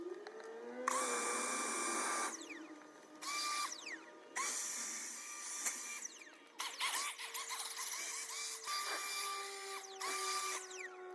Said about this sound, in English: The rest of this is a leaf blower job.